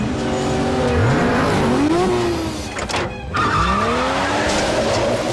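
Twin-turbo car with a high-pitched exhaust note revving hard and loud, the pitch sweeping up through gears with tire squeal, dropping briefly and then climbing again.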